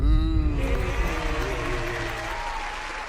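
A short burst of applause, a dense wash of clapping that fades gradually, begins just after a brief voice at the start.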